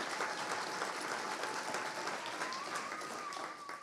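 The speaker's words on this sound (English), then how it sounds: "you can clap" Audience clapping at a retirement celebration, a soft, distant, even patter of many hands that carries on steadily, with a faint thin tone running beneath it.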